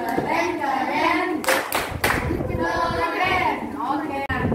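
Primary school children in a fourth-grade classroom clap in rhythm while chanting together, loud and close, with the clapping pattern and group voices blended.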